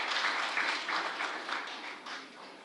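A crowd at an international rehabilitation forum in Lviv applauds a mayor with a dense, rhythmic clapping that swells at first and slowly tapers off.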